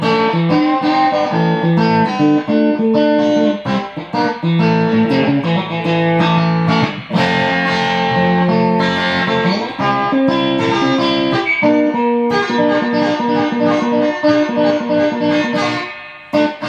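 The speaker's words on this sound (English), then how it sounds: "Here's a famous guy that did some nice guitar tones." Electric guitar played through an old valve amp, a sustained, slightly overdriven tone with chords and melodic phrases ringing continuously and loud, with no talking.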